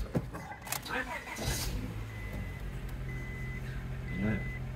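A Honda car engine with a charging-system fault is started: a brief cranking burst gives way to a steady idle. Intermittent electronic warning chimes sound and a voice talks over it.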